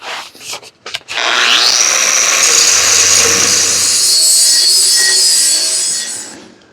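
A power tool, likely an angle grinder, cleans up steel on a pipe-and-hitch modification for a box blade before welding; a loud, sustained high whine grinds steadily for about five seconds after a few brief knocks, then winds down.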